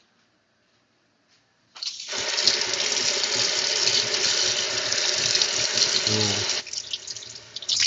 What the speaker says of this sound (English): Let me turn the camera so that you can see me washing it.